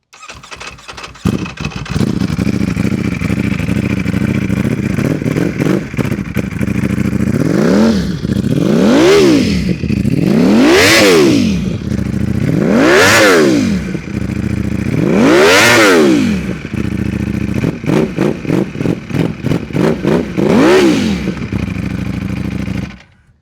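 A Ducati V4R motorcycle's V4 engine revs hard again and again, with about six sharp rising-and-falling throttle blips over a steady loud idle, close up and with no talking.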